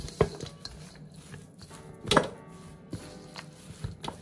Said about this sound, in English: Just combine all the dry ingredients together.